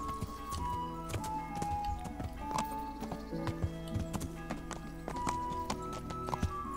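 Rhythmic clip-clop of horse hooves trotting steadily in Kingdom Come: Deliverance, with tonal game music and soft effects layered over it.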